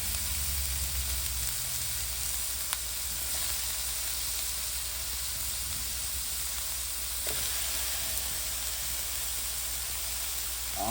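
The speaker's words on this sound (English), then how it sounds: "Now we'll add our mushrooms." Mushrooms frying in a hot pan alongside a beef roast, a dense, continuous close sizzle that stays steady and loud throughout, with a couple of faint clicks and stirring scrapes.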